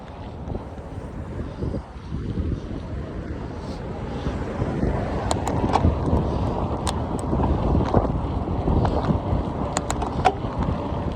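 Wind rushing steadily past the microphone during a long ride, a loud continuous roar that swells and gusts with scattered faint ticks, no talking.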